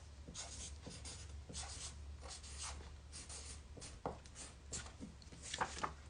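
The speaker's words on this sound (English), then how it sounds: "I can write it again" Handwriting with a pen on paper: quiet, close scratching strokes in short irregular bursts with brief pauses between words.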